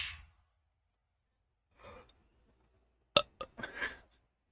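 A loud, abrupt burp bursts out after a soft sigh and a quieter breathy sound, followed by a couple of shorter throaty eructations trailing off, all close to the mic in an otherwise quiet night-time room.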